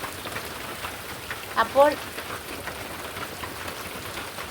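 Rain falls steadily in an even, moderate patter, with a man's brief spoken word breaking in near the middle before the downpour carries on alone.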